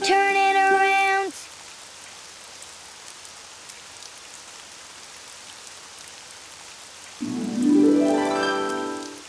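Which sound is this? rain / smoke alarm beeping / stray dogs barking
rain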